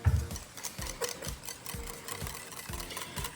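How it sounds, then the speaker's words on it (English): A sugar-free vegan blueberry ice cream base with a pinch of salt is whisked by hand, giving quiet, close, rhythmic scraping strokes about three per second, with no talking. "I'm gonna whisk that together."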